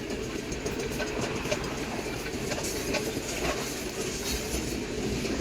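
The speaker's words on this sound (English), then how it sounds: "Here comes the distributed power unit here in a second." A CSX freight train of about 130 cars rolls by on the Grand Rapids line, its distributed power locomotive working hard in a high notch, with a loud, steady rumble and continuous wheel clatter close by.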